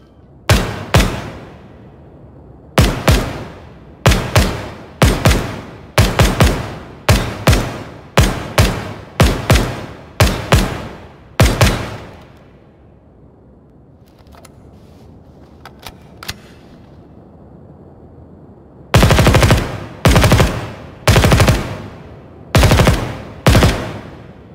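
Sharp, loud single shots from an MK17 DMR SCAR rifle in the video game Ground Branch, fired in a steady run of about a dozen spaced rounds, a brief pause with faint rustling, then several more quick shots, with no talk.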